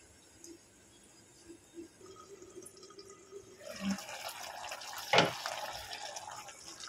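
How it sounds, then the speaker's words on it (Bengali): Water poured into a pot of potatoes being cooked for a Bengali rohu fish curry, a short splashing pour rising near the end amid quiet kitchen noise. "জল দিয়ে আমি এটাকে আলুটাকে সেদ্ধ করে নেব ঢেকে।"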